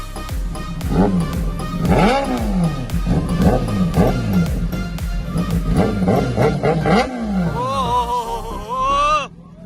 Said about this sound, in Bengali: এবার স্টার্ট হতে চলেছে the mighty ZX-10 guys, sound check করো